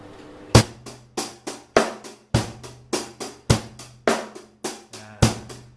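Acoustic drum kit playing a 16-beat pattern, busy hi-hat ticks running steadily between heavier kick and snare hits, loud and up close, repeating for several bars with no talking.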